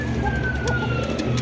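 A pair of white Arabian fancy pigeons coo together in soft, repeated, rolling calls, close and clear over a steady background hum.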